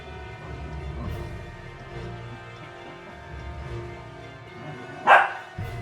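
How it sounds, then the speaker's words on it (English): A dog barks once near the end, fairly far off in the background of an indoor tabletop game session, over a low steady hum. "I'm sure you can hear her barking in the background."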